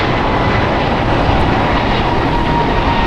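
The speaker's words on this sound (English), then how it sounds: "Departing here is Alaska Airlines Flight 286 to EWR. It's an Airbus A321neo, 6 years old." Alaska Airlines Airbus A321neo, six years old, roars loudly and steadily as it takes off from runway 25 right at LAX, a continuous broadband engine rush with no talk.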